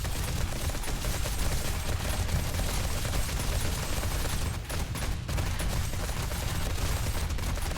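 Sustained rapid gunfire in the video game 7 Days to Die, a dense loud fusillade running almost unbroken for several seconds with only a brief dip near the middle.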